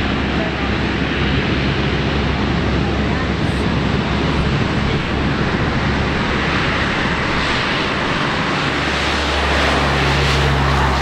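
A Royal New Zealand Air Force C-130H Hercules accelerates down the runway and lifts off at an air display, a steady, loud turboprop roar with deep droning tones that swells slightly toward the end, mixed with wind noise.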